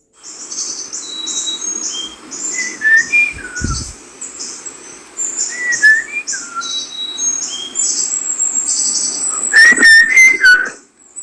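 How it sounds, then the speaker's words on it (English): A person whistles a tune close to a microphone. A run of bright, clear, high notes forms short chirping phrases, with a brief low thump early on. It stays fairly loud throughout, with no talking. "whistling really cuts through microphones like nothing else"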